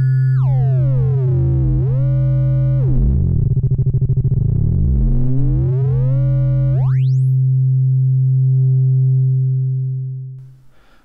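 A Moog Grandmother synthesizer with its modulation swept up into audio range: a loud, steady drone under buzzy tones that dive, warble and climb in pitch, then soar out of hearing and fade away.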